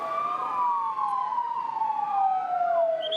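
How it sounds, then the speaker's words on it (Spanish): Ambulance sirens wail in overlapping rising and falling tones, several sirens at once, loud and continuous with traffic noise beneath. "Pasadas las 4 empezaron a sonar ambulancias."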